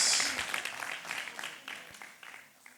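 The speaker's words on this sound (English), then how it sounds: "Round of applause." Festival crowd giving a round of applause at an outdoor nature event, a short burst of clapping that fades over a few seconds.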